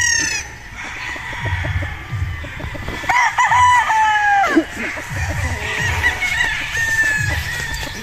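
A young gamecock stag crows loudly nearby, with other chickens clucking and scratching in the background throughout.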